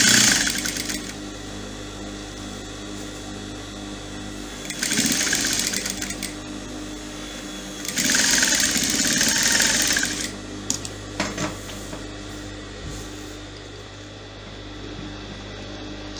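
A sewing machine runs a stitch along an A-line skirt with front pleats, its steady mechanical whir and rapid needle chatter swelling in several bursts of louder running between quieter idle stretches, close up with no talk.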